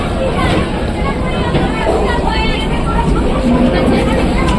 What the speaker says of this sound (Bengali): জাস্ট শিয়ালদা ছাড়লো ট্রেন আমাদের।